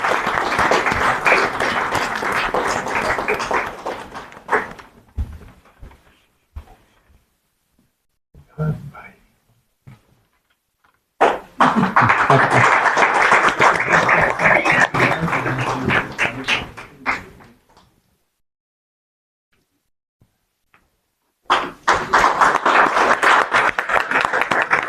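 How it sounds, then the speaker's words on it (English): Audience applause at an award ceremony honouring a journalist, bursts of clapping broken by quiet gaps and brief sounds, then resuming strongly twice, with some talk mixed in. "Let's give him a round of applause."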